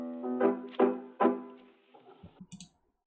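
A soloed drill beat sample pitched in octaves: three bright, decaying melodic stabs followed by a few soft, low plucks and a short high tick, close and isolated.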